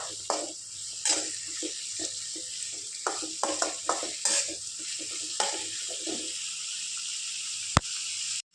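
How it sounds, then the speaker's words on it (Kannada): Onion, ginger, garlic and tomato fry in oil for a bean masala gravy, with a quiet sizzle under repeated close spoon scrapes in an uneven rhythm, and one sharp click near the end. "ಎಣ್ಣೆಯಲ್ಲಿ ಚೆನ್ನಾಗಿ ಫ್ರೈ ಮಾಡಿಕೊಳ್ಬೇಕು ಫ್ರೈ ಆಗ್ತಾಯಿದೆ"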